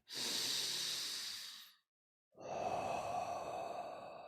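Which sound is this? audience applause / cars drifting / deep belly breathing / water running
deep belly breathing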